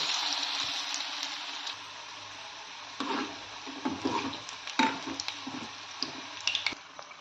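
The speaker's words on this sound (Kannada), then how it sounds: "ಈಗ ಫ್ರೈ ಆಗಿದೆ ಅದನ್ನು ಪ್ಲೇಟಿಗೆ ತಗೊಳ್ಳೋಣ ನೋಡಿ ಎಷ್ಟು ಚೆನ್ನಾಗಿ ಸೌಂಡ್ ಬರ್ತಾ ಇದೆ" Bread manchurian pieces sizzle in a pan of hot oil, a steady hiss and crackle with louder bubbling pops and spatters growing livelier partway through.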